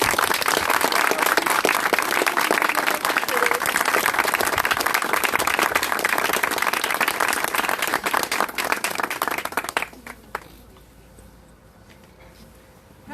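A crowd applauds loudly and steadily for about ten seconds at a press event in Turkey, then the clapping cuts off into near silence.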